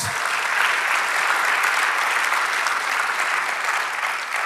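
A church congregation at a Spanish-language sermon breaks into a dense, even round of clapping that holds steady and fairly loud throughout, with no talk over it.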